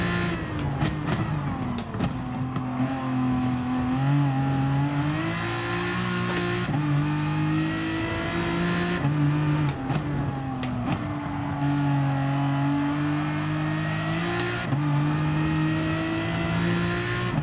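A GT-R race car in the game GT Sport, running on worn tyres, revs hard through repeated upshifts, its engine climbing and dropping in pitch with brief lifts and a chicane braking moment, loud and continuous.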